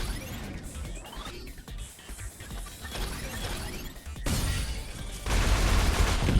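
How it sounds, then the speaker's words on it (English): Video game explosions and crashes erupt in a rough, noisy burst, with bangs and crackling debris growing louder toward the end as a vehicle drives through the blast. "driving through the explosion, pretty cool"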